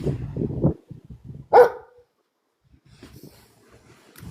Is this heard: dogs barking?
yes